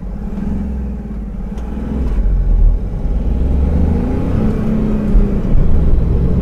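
Chevrolet Beat car pulling away and driving on a road, a steady low engine rumble heard from inside, rising slightly as it accelerates.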